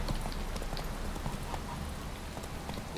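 Horse hooves clip-clopping in The Witcher 3 as the mount Roach gallops, a steady, fairly loud rhythmic beat of hoof strikes running continuously over a dense game soundscape.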